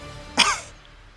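A single sharp cough from a creature in a fantasy role-play story, close and fairly loud, fading quickly into quiet.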